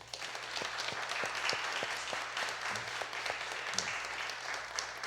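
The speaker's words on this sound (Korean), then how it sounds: "수고하신 분들 수고했다고 박수 한번 해주세요." Faint, steady applause from a Korean Methodist church congregation during a Sunday service honours volunteers who served samgyetang, a soft, distant patter of many hands with a low background hum.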